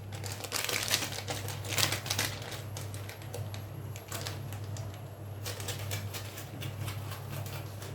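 A plastic bag of Chef Dream cake mix crinkles and rustles up close for several seconds in a home kitchen, irregular crackly handling noise over a low steady hum.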